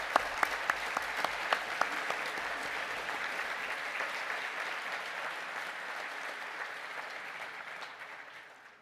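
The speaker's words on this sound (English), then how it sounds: "could stand for a round of applause" Audience at an agriculture and environmental management degree ceremony claps for standing graduates, a broad, even applause with a few sharp claps early on, fading gradually at the close.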